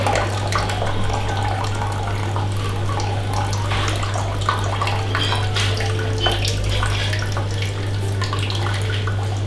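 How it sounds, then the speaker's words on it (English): Brewed Tai Ping Hoi Kui green tea poured into a tasting bowl, a steady continuous splashing pour running the whole time over a low constant hum, with no talking. "we're going to pour that into our tasting bowl"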